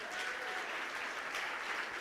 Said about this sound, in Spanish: un aplauso a estos discípulos también